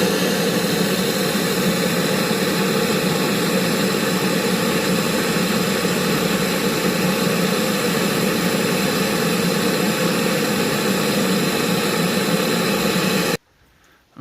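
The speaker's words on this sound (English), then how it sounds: "So I've got the blowtorch here onto the vaporizer" A blowtorch roars steadily and close for about thirteen seconds, heating the DPF vaporizer between the subframe and engine under a Ford Transit, then cuts off abruptly.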